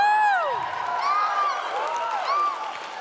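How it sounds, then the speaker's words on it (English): A convention panel crowd cheering and whooping in a broad, steady roar, with high rising and falling shouts over the noise for the whole stretch. "Yeah, you cheer now"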